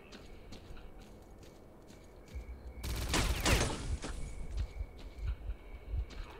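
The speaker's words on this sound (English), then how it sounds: "So I can see the guy that's shooting at me." Enemy gunfire in the S.T.A.L.K.E.R.: Clear Sky game, scattered single shots followed by a dense, loud burst of rapid fire and further irregular shots, without talk.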